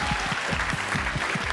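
A studio audience applauds on a Chinese-language quiz show, a short burst of brisk clapping with low thumps from nearby hands, fairly faint and even throughout.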